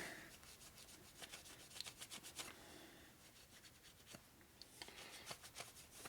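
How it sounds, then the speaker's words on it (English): Steady rubbing and scraping of 3-Bond sealant residue off an S&S 113ci Evolution Harley engine surface, a dry gritty scrubbing with close repeated strokes, no talk. "Rub it, scrape it."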